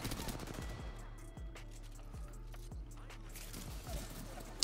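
Rapid automatic gunfire from a Flatline or R301 rifle in Apex Legends ranked arenas, played in repeated bursts with sharp individual shots at a moderate level, and no talk over it.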